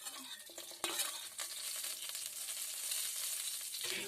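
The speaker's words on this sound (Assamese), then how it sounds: "এতিয়া লগতে মই নহৰু, আদা আৰু জলকীয়া কেইটাও দি দিছো।" Whole cumin, nigella seeds, garlic, ginger and green chilies frying in hot oil for pumpkin leaf chutney, a steady bright sizzle with stirring scrapes and a sharp clatter near the start, close and continuous.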